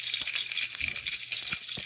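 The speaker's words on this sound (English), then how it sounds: "This is what a set of keys full of stuff sounds like." A bunch of keys loaded with attachments jingles and clinks close by, a bright metallic jangle running for about two seconds without talk.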